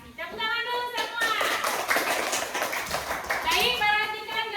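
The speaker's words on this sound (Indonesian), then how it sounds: "Tepuk tangan dulu semua." A classroom of children claps hands together in a lesson, bursts of clapping mixed with children's voices and chatter.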